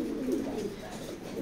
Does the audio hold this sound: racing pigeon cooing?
yes